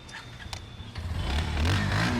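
A 2025 Bajaj Pulsar NS 125 ABS motorcycle with a 125cc engine starts with a few sharp clicks, then a low, close rumble builds and revs steadily louder for about two seconds, with no talking.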